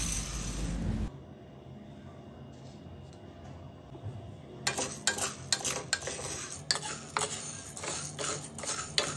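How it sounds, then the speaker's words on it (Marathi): Sago pearls dry-roasted over a low flame in a kadhai, stirred until crisp: after a second of loud scraping comes a quiet stretch, then a run of close, repeated dry scrapes and rattles from the stirring. "एक वाटी साबुदाणा कढईमध्ये बारीक फ्लेमवर भाजून घ्यायचा आहे कुरकुरीत होण्यापर्यंत"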